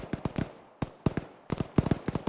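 Gunfire in the military shooter game Arma during a large multiplayer match: sharp, loud bursts of several quick shots in clusters, separated by short pauses with faint decaying echo, no talking.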